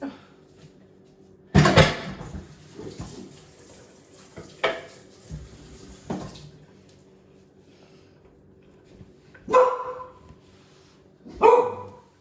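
Dogs bark in a few sharp, loud bursts spread apart, with quiet kitchen sounds and running water between them.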